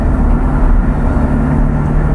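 A Ferrari F430 engine drones steadily while driving, a constant low rumble from inside the cabin that holds level throughout, with no one talking.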